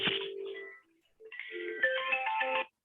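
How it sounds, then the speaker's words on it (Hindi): A phone ringtone plays a melodic electronic tune in two bursts with a short gap between them, clear and close, with no talking over it. "फिर फोन है।"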